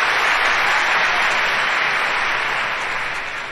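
Dense, steady applause from a live theater audience at a 1972 Groucho Marx stage evening, loud and continuous at first, then gradually tapering off toward the end.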